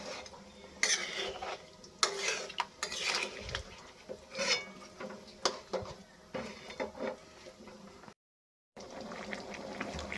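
Chicken and potato curry being stirred in a pan, with repeated scraping and clinking of a utensil against metal in uneven bursts, fairly quiet and close, with a brief silent gap.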